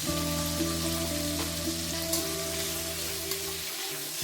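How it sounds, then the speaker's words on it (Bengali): Masala of cumin, a dried red chilli and asafoetida frying in a pan for a vegetarian paneer dish, a steady close crackling sizzle with an underlying hum and no talking. "খানিকক্ষণ নাড়াচাড়া করে নেব যতক্ষণ না মশলাটা ভালো করে কষানো হয়ে যায়"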